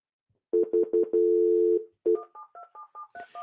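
Telephone line tones on a dropped conference call: a quick run of dialing beeps and a held tone, then a series of short, evenly spaced two-pitch beeps, loud and clear with no talk.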